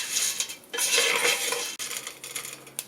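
Fideo noodles browning in a pan are stirred with a utensil, giving scraping, rustling clinks against the metal in uneven bursts over a quiet background.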